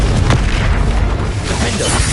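A Bombarda spell explosion in the Hogwarts Legacy video game lands as a heavy, loud boom with a rumbling burst, followed by continuous crackling combat noise.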